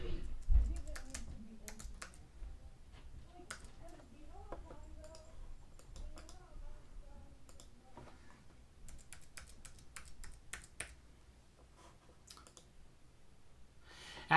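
Computer keyboard typing for a username and password login: close, irregular bursts of key clicks with pauses, plus mouse clicks, under faint talk.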